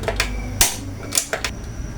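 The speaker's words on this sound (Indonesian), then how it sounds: "Dan ini kita nyalakan kompor." A few sharp, dry clicks of a gas stove igniter at irregular intervals, close by, with no talking.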